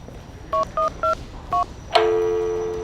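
Four short telephone keypad tones beep in an uneven rhythm, then a sustained ringing tone follows and slowly fades.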